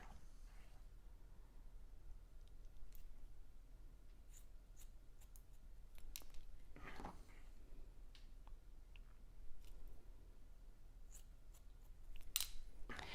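Scissors snip hair close up while cutting a graduated bob, a few quiet, sparse metallic cuts spaced seconds apart over a low hum.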